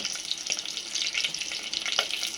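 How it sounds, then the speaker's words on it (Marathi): Oil frying in a pan for Karnataka-style masoor dal, a steady close hiss and sizzle with a few small crackles and pops. No one speaks. "आता ह्याला फ्राय होऊ द्या गाईज."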